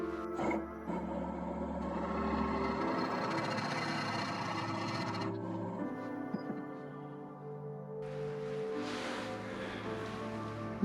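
A spiralling texturing tool with a 2mm wheel cuts into a bowl spinning on a lathe at 450 RPM, producing a steady, close, whirring, buzzing drone that shifts in texture partway through and then continues without a break.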